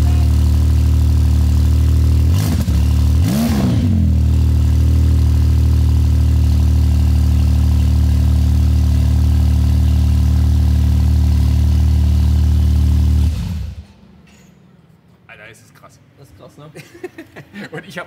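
A 900 hp Porsche 992 Turbo S fires up and settles into a loud, steady idle close by, with a couple of blips early on, then the engine cuts off; a voice speaks briefly.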